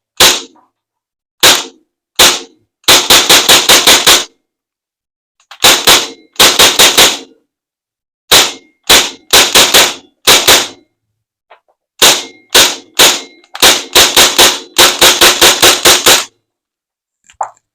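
An airsoft gun firing at a metal target gives sharp, bright clanging hits, some single and some in fast bursts of six to eight, loud and close with short pauses between strings and no speech.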